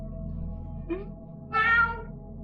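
A person imitating a cat's meow during a playful breathing exercise: a short vocal meow, then a longer, louder drawn-out meow over a steady low background hum.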